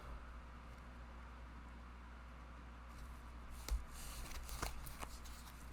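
Tarot cards are shuffled and drawn, with soft riffling and a couple of sharp card snaps in the second half over a quiet, humming room.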